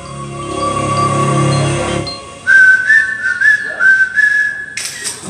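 Bright, piercing whistling at the Maiam Whistle app launch, first a long steady tone over a low hum, then after a short pause a sharper warbling whistle blown in several bursts.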